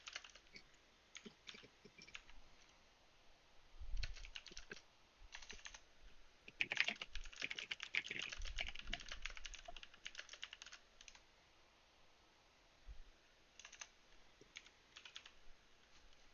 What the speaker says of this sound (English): Alex, do you have a mechanical keyboard?